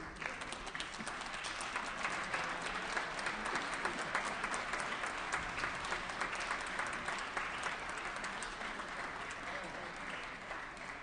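Steady applause fills an assembly floor session as guests are welcomed, many hands clapping continuously and evenly for the whole stretch, moderately loud and without a pause.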